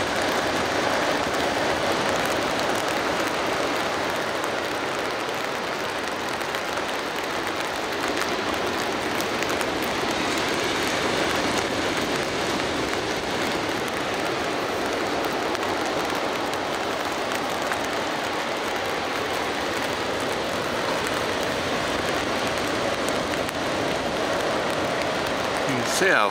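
Steady broadband hiss of rain falling at an ocean surf beach at Loch Sport, continuous and fairly loud throughout, with a flat calm sea and a voice talking intermittently over it.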